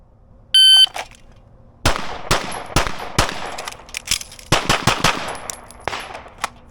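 Gunshots during a timed shooting practice drill, opened by a sharp electronic start beep, then a quick string of loud, crisp shots in two bursts with short pauses between them.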